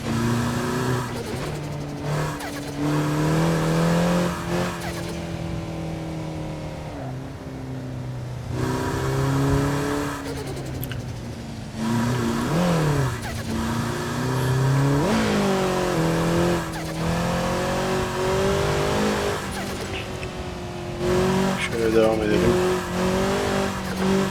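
Toyota GR86 on a narrow rally track, engine revving and straining with tyre squeal and skidding as the car is worked free after a wheel slipped off the road, with people talking over the engine throughout.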